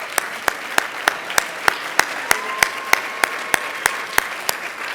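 An audience applauds at an environmental leadership award ceremony: a steady bed of clapping with one loud nearby clapper striking a regular, even beat through the whole stretch, no talk over it.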